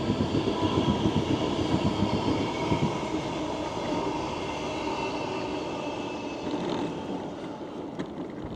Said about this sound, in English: Oh, a train.